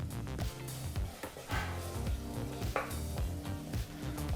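Garam masala and turmeric powders stirred into hot oil in a pan for tomato bath, a steady close sizzle with scraping spoon strokes against the metal throughout, no voices.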